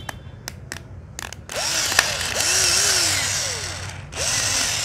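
A used Japanese Toshiba cordless drill/driver spins up after a few sharp clicks, then runs as a loud, steady whir for several seconds, dips briefly, and resumes at full speed.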